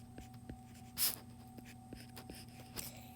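Pen or marker strokes writing out a math function for a height problem, soft scratchy bursts with one louder stroke near the start and another near the end over a low steady hum, no talking.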